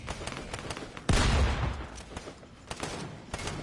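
Gunfire in a multiplayer shooter, a loud burst of shots that begins abruptly and holds for about half a second, then fades into softer distant pops and game noise.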